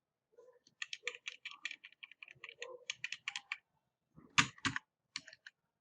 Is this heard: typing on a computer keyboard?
yes